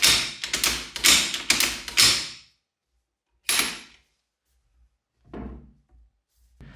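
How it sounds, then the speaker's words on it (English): Bolt of a WW2 machine gun being racked by hand: a quick series of sharp metallic clacks and thuds, then isolated single clunks separated by silence, close and loud. "Here I'm racking the bolt,"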